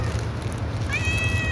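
A hungry cat gives one drawn-out, rising meow that sounds close and clear over a low steady rumble of background noise outdoors.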